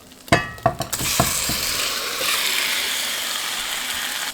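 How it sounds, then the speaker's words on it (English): Beef hits hot oil in a pan with a few sharp clatters and thumps, then a loud, steady sizzle and crackle of frying settles in and continues close up, with no talking. "Oil is hot, so I'm gonna fry this beef here."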